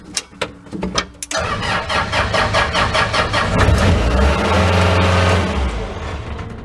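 A used Chinese-made skid steer with a broken history cranks and its engine fires up after several sharp clicks and bursts, then settles into a loud, steady mid-pitched running drone that rises toward full throttle.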